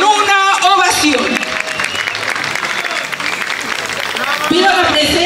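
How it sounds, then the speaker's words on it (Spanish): A crowd at a patronal town festival in San Andrés Miraflores gives a loud, sustained ovation with dense clapping, as music and a voice carry through at the start and end. "Recibámoslos con una ovación."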